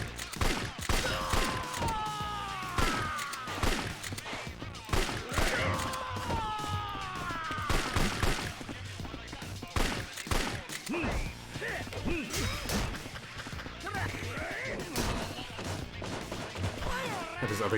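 Gunfire in a video game: rapid bursts of shots and crashing impacts, dense and loud across the whole stretch, mixed with game sounds and someone talking.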